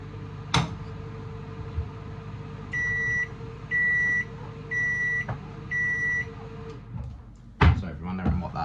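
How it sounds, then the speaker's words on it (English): A microwave beeps four times in an even series of short electronic tones, fairly clear, with kitchen clatter and thuds around it and a sharp bang near the end. "if you're wondering what that beeping sound was, 1 is the microwave"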